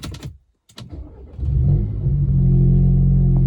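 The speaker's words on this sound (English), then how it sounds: "Let's take this key, foot on the brake, start her up." An Audi A5 S line, a written-off car, has its engine cranked and started, then settles into a loud, steady rumbling idle with a rising rev, close up after a few brief clicks and a short silence.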